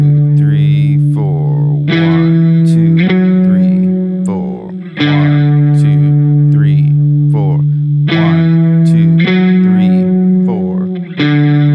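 An electric guitar with effects and distortion holds chorus chords as whole notes struck on each downbeat, every chord ringing out through a full measure with chorus and reverb, loud and sustained with no voices.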